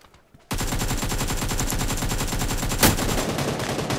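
Sustained fully automatic fire from a 7.62 rifle in the mobile battle royale game New State Mobile, a loud, rapid, evenly spaced stream of shots for about three and a half seconds after a quiet start.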